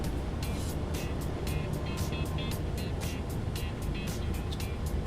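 A car travelling along Pelham Parkway in the Bronx, with steady road and engine rumble heard from inside and a series of faint passing whooshes at a regular rhythm.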